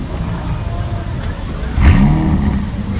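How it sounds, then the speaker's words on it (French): A Ferrari California pulls away hard from a standstill on a Paris street, its engine swelling into a louder rising rev about two seconds in over a constant rumble of street noise. "Après là, on arrive à un petit démarrage, hein. C'était une Ferrari California."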